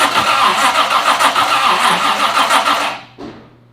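A barn-find supercar engine, unstarted for ten years, cranks with a rhythmic, pulsing starter whir for a few seconds, then cuts off abruptly, followed by a brief cough and quiet.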